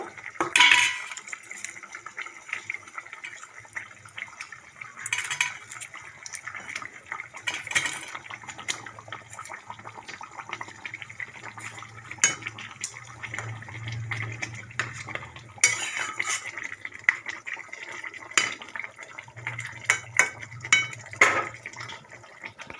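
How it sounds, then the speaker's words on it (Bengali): Pieces of katla fish slipped one by one into simmering kalia gravy, giving soft splashes and clinks of utensils against a pot, with quiet bubbling in between and no talk. "এই দেখুন আমার ফুটে গেছে এবারে আমি এক এক করে মাছগুলো দেবো"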